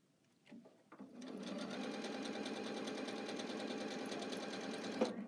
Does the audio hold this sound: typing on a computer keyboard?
no